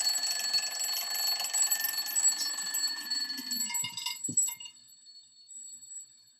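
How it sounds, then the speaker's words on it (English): An analog alarm clock rings continuously with a bright, dense metallic jangle, loud and steady for about four seconds before cutting off, leaving a faint fading tail. "so what I have here is an alarm clock. Okay, it's an analog clock here, and I'm going to go ahead and turn on the alarm."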